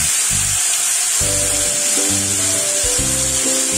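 Fresh bay leaf and green chillies fry in a pan of oil, a steady near sizzle running throughout with a continuous hiss and no voices.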